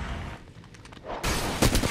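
A gold Flatline rifle in Apex Legends fires a loud, close burst of rapid automatic shots after a brief quieter lull.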